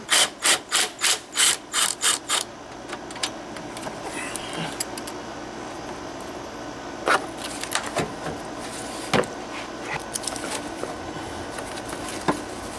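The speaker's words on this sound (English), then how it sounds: "there's a 13mm bolt down here that holds the battery in. I'm going to remove that." A ratchet clicks rapidly in a quick burst of about eight strokes while a 13mm battery hold-down bolt is loosened on a 2003 Neon. Softer scattered clicks and rubbing follow in a quiet garage.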